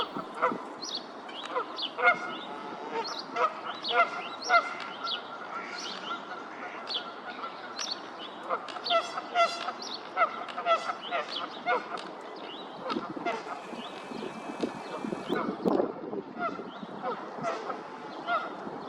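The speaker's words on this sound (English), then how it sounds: "The goose then had a noisy reunion with its mate." Geese honk loudly and repeatedly in a noisy reunion between a goose and its mate on springtime water in Edmonton, Alberta, with overlapping calls and other birds chirping around them.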